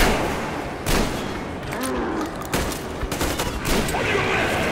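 Gunfire rattles through a Metro Exodus firefight in bursts of loud shots over a dense, noisy battle backdrop, with overlapping blasts and no clear pauses.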